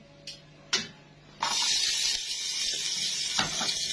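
Meat hits hot oil and fat in a pan with a sharp clack, then a loud steady sizzle sets in and keeps going, with a few more faint clinks over it.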